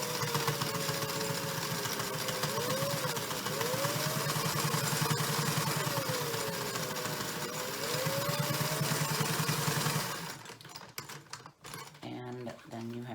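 A sewing machine stitching fabric for homemade dog boots for hot pavement makes a steady motor whir and rapid needle chatter for about ten seconds. Then it stops, leaving quieter handling noises.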